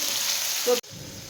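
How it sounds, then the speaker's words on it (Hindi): Chicken fries with onions in a pan, a loud continuous sizzle that briefly swells, then drops away abruptly into a quieter, softer crackle. "पहले हम चिकन को बहुत ही अच्छी तरह जो है 3 से 4 मिनट तक प्याज में इसकी भुनाई करेंगे।"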